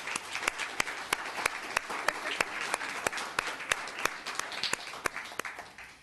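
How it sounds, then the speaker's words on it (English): A town council meeting audience applauds steadily with sharp, distinct claps standing out over a dense wash of clapping, sustained for several seconds at a moderate distance. "Let's give him a round of applause."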